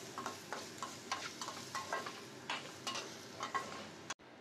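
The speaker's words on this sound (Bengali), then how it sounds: "এবার দিয়ে দেব আদা বাটা, দিয়ে সমস্তটাকে ভেজে ভালোভাবে আমাদের মিশিয়ে নিতে হবে।" Grated coconut with ginger paste fries in a pan for Bengali chana dal, a spatula stirring and scraping in a steady rhythm of about two strokes a second over a soft sizzle, ending abruptly.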